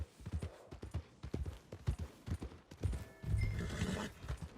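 Clip-clopping horse hooves in Red Dead Redemption 2, an irregular run of close hoofbeats followed by a horse neighing, all fairly quiet.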